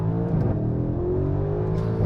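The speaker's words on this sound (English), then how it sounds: "Nobody can do engine noise like AMG." A Mercedes-AMG GLC 63S accelerates hard, its engine note loud and close as it rises steadily in a continuous throaty roar with no voices over it.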